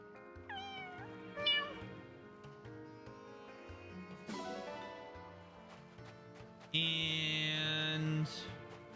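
Several short cat meows in the video game Fire Emblem: Engage over a busy musical game soundtrack, with a bright, louder chime-like burst near the end.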